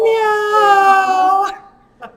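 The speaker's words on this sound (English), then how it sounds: "Meow!" A tiny cat character in the video game Fantastic Contraption gives a long, high, wavering meow that sounds voiced by a person, followed after a short pause by a brief second squeak.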